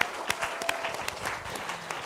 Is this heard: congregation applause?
yes